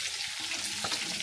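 Fish sizzles steadily in a hot pan of oil, a dense, even crackle that fills the whole short moment with no voices over it.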